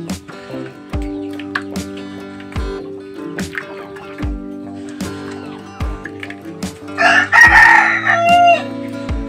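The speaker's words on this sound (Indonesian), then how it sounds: "itu murni suara ayam kampung guys" A free-range village rooster crows near the end, loud and close, over a steady rhythmic mechanical thumping background.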